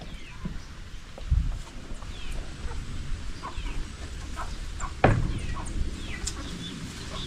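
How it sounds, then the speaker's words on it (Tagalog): Chickens cluck softly and intermittently in a rural yard, faint and scattered against quiet background noise, with a couple of brief louder knocks. "May manok dito."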